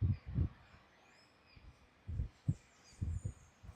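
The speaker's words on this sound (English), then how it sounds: "Everybody can hear the birds now." Faint birds chirp outside in thin, high twitters over a quiet background, broken by several soft low thumps.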